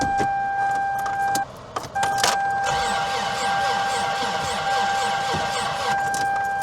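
A warning chime in a Toyota Previa van sounds as a steady electronic tone that holds, drops out briefly, then resumes. Interior car noise and faint jangling run beneath it.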